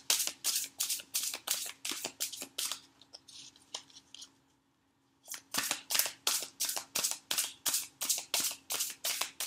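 A deck of oracle cards is shuffled for a reading in quick, rhythmic riffling snaps, close and crisp, pausing briefly midway before resuming at the same steady pace; no talking.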